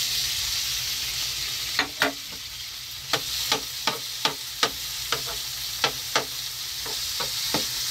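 Tofu frying in a pan with garlic and onion gives a constant sizzle, broken by a dozen or so sharp clacks of a utensil stirring at an uneven pace; no one speaks.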